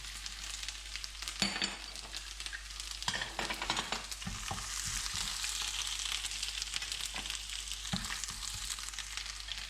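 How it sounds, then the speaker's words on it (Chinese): Shallots stir-fried with minced garlic and ginger for kung pao chicken make a constant hiss of frying, with scraping spatula strokes and clanks against the pan breaking in now and then, close and alone with no voices. "葱头爆香，放进蒜末、姜末，"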